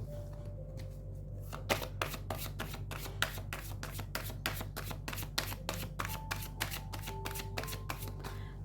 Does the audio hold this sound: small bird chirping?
no